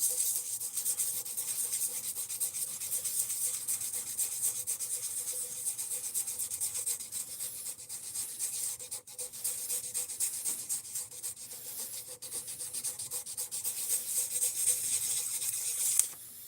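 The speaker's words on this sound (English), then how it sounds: "And here I thought I was out of the good sandpaper." A knife blade is sanded by hand with sandpaper, making a continuous, close, brisk rubbing rasp in quick even strokes, with no speech.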